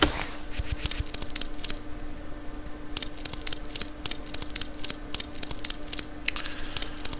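Spanner in Car Mechanic Simulator working bolts off a car: rapid bursts of sharp metallic ratcheting clicks, repeated in quick clusters with short pauses between, close and crisp.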